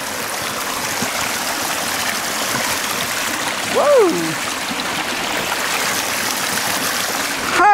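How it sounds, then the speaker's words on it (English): Water of a river on the Homeros hiking trail in Turkey rushes steadily throughout, a broad close wash, while a voice whoops briefly near the middle and again at the end. "Here is a river, one of the most dangerous rivers of Turkey"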